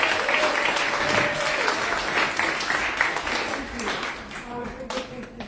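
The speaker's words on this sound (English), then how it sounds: "let's give an applause to Council President Sandoval for pulling us all together" Applause from the audience at a Denver City Council budget retreat, with steady, dense clapping that continues for the full stretch and carries some voices.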